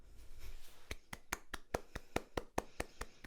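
A small, sparse round of applause from one or two people, about a dozen distinct claps in a loose rhythm, close and moderately loud with no talking.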